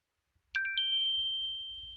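A mobile phone ringtone starts abruptly with a bright chime and holds a sustained, fairly loud electronic tone for over a second in an otherwise quiet room.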